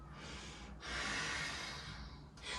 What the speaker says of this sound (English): trying to create that sound just with breathing in and out of my nose